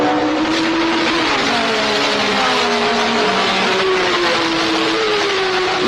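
Porsche 917 race cars roaring around the Sebring circuit in 1970, a loud sustained engine wail with shifting pitch as the cars pass close by, no voices.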